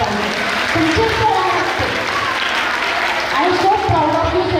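An audience claps hard and steadily for Sachin sir, dense applause filling the room nonstop from start to finish, with a voice cutting through over it.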